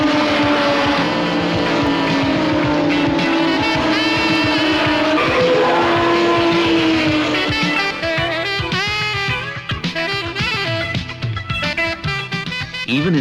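Toyota Celica 1600 GT saloon racing cars scream past on a British circuit, engines revving and shifting loudly, pitch rising and falling as cars pass, with tire noise toward the end.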